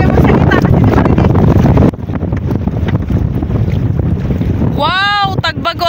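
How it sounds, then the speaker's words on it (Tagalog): Strong wind at sea buffets the microphone aboard a boat in a loud, steady roar, with a constant gusting rumble and a brief high whistling tone near the end. "Malakas yung hangin"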